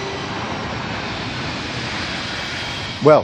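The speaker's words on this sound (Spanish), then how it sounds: "Los aviones vuelan tan bajo que a veces es imposible oírse uno mismo." Loud, continuous roar of low-flying airplanes passing near Rome Fiumicino airport, a broad engine rumble that holds steady before a brief louder burst at the very end.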